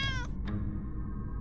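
A single short cat meow in the game Yuppie Psycho, with clear harmonic tone, followed by a faint chirp over a low steady background hum.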